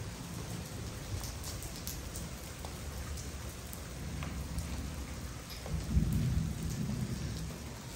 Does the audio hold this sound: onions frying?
no